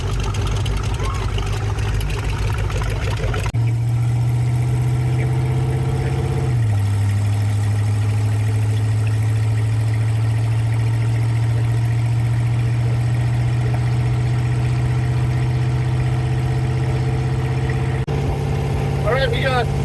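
Car engine idling steadily at close range, a loud constant low drone that shifts pitch slightly a few times and continues throughout while people talk over it.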